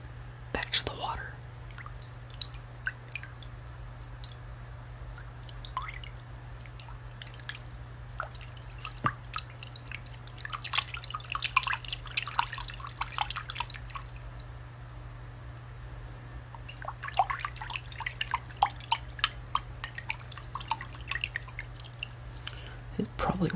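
Water drips and small pours sound close to the microphone for ASMR, a scatter of soft irregular plinks over a steady low hum, with a whispering voice in between.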